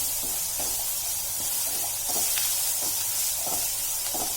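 Onions hit a hot pan while cooking shev bhaji, giving a steady loud sizzle of frying with faint stirring taps at intervals and no talking.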